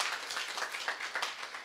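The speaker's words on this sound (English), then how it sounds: "A little applause, please." Audience applause at an ethics conference, a steady spread of clapping hands at moderate level, sustained and even with no voices over it.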